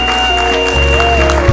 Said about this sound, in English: Please, may I request with a big round of applause, kindly welcome on the dais